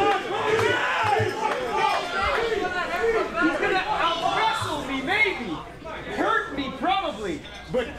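Crowd at a TNA wrestling main event, a CSW championship match between Speedball Mike Bailey and Conan Lycan, chanting and cheering in rhythmic waves of many voices, while commentary carries over the top.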